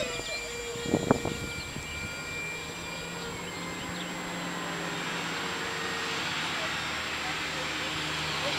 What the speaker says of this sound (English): a little cartwheel of a plane there, F-86, and not a bad little park flyer here